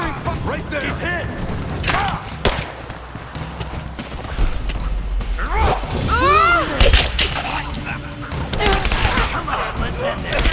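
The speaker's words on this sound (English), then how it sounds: "Give me covering fire!" Gunfire in the action game Rise of the Tomb Raider, irregular shots and bursts in a chaotic battle with explosions and clatter, and shouting voices mixed throughout.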